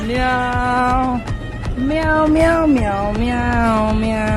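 A human voice imitates a cat, drawing out a few loud, close, wavering meows one after another.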